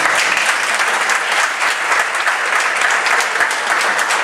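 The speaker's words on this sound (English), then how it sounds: "Give her a nice round of applause." A meeting audience gives a loud, sustained round of applause, dense clapping that holds steady without pause from start to finish.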